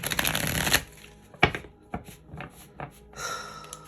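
Tarot cards riffled and shuffled up close in a quick burst, followed by a few soft taps and slides as the deck is squared, with a brief rustle at the end.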